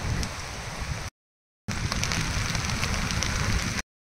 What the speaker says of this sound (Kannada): ರೆಡ್ ಅಲರ್ಟ್ ಇದ್ದಿದ್ರಿಂದ ದಿನ ಪೂರ್ತಿ ಮಳೆ ಜೋರಾಗಿ ಬರ್ತಾ ಇತ್ತು.